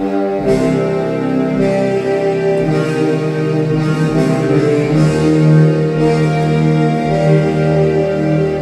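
Sustained piano chords of a Spider-Man: Far From Home hero theme ring out in a slow, full texture, with left-hand low notes rising beneath a steady held harmony.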